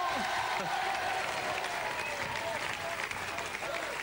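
Audience applause at a French television music show, a steady dense wash of clapping from a studio crowd that fills the whole stretch at even loudness.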